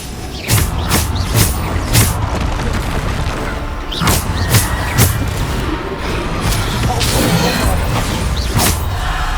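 Bombarda blasting spells go off repeatedly in Hogwarts Legacy, about a dozen sharp, booming explosions in an uneven rhythm, loud and close over a continuous game-battle background.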